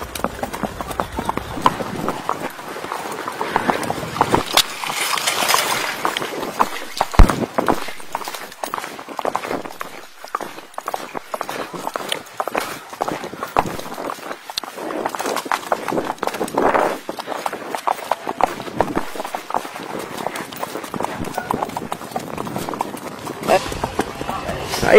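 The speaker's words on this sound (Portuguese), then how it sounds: "Passeada, caminhando do cavalo." On a ride through Parque Matias in Xerém, Rio de Janeiro, a horse walks with irregular hoof clip-clops over a rustling outdoor background, a voice talking at times.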